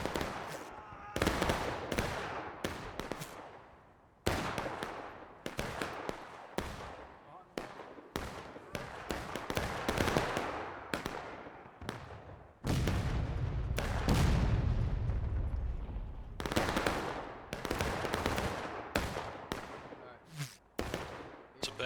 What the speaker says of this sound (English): There's some Union Army shots coming in doing some counter battery as well.